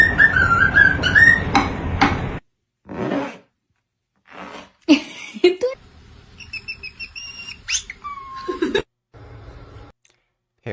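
A parrot gives bursts of rising and falling whistles mixed with sharp squawks and squeaks, close and fairly loud, separated by short silences, with faint voices talking in the background at times.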